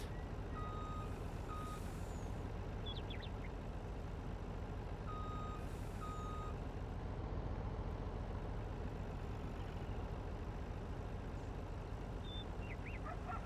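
Reversing beeps from a truck in Farming Simulator 19, a steady series of evenly spaced electronic tones sounding clearly over a constant low engine rumble, with no talking.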